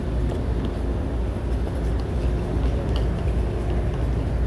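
A steady, loud low rumble of a moving train to Al-Hassa (Hofuf), constant throughout with faint rattling above the heavy drone.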